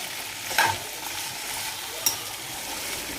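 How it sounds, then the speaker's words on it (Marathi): Okra (bhindi) stir-fried on a high flame for a Kolhapuri-style dish sizzles steadily, with two brief scrapes of a spatula against the pan cutting through the frying hiss. "ही सारखी हलवावी लागते आणि थोडी हाय फ्लेमवर तुम्ही याला परतवत राहा, जेणेकरून ती खाली चिकटणार नाही."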